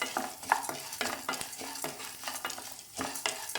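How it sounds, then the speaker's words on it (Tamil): Urad dal and chana dal roast dry in a pan for idli podi, a spoon stirring and scraping them in repeated rhythmic strokes with a light crackle underneath, close and without talk. "இப்போ நல்லா பொன்னிறமாக நல்லாவே வறுக்கட்டும்"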